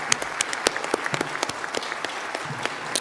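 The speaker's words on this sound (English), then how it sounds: "Let's give ourselves all a round of applause." Applause fills a nursing pinning ceremony at Bloomfield College, many hands clapping in a dense, steady patter with a few sharper claps standing out, sustained and fairly close throughout.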